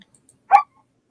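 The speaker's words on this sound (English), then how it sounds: "I have no room for a crazy ass puppy" A single short, sharp bark from a young, excitable puppy, close and fairly loud, surrounded by near silence with a few faint ticks.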